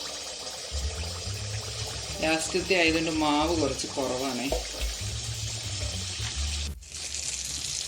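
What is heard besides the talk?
neyyappam batter frying in hot oil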